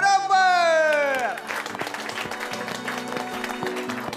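A studio audience on a Marathi TV game show applauds in a steady, even patter of clapping that follows a loud musical sting and carries on for several seconds.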